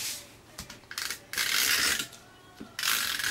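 A Stampin' Up Snail adhesive tape runner is pulled across card stock, making several short ratcheting, clicking bursts up close at an uneven rhythm.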